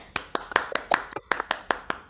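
A few online participants clap over unmuted connections for a panel, giving about a dozen sharp, distinct claps in a loose, slightly uneven rhythm, close and compressed.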